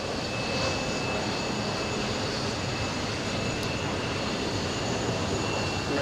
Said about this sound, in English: we have a CRJ taking off